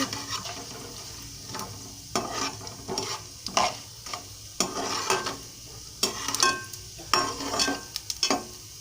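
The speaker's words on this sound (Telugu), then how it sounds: "దోరగా వేగాలండి, మాడకుండా" Urad dal frying in a pan to golden brown for fried rice: a steady sizzle with repeated scraping stir strokes and utensil clicks, close and moderately loud, with no talking.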